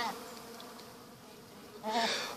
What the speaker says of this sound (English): Just want to show a quick shot of the bees that are around.